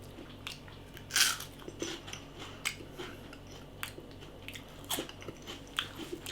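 Quiet, close crunching as someone bites into a crispy Cadbury Joy Fills chocolate-filled biscuit: one sharp bite, then a string of smaller crisp chews and crunches, with no talking.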